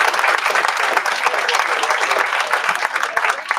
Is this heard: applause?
yes